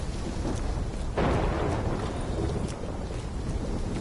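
A thunderstorm with steady rain in Valkyria Chronicles, a dense hiss of rainfall with a low rumble of thunder swelling partway through, continuous and fairly loud.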